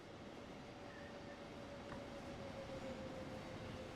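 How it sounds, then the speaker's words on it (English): Inside a German electric-traction train simulator game, a train pulls into the platform opposite with a low rolling rumble and a faint steady tone, quiet and continuous with no one talking. "It's the train that is pulling into the other side platform."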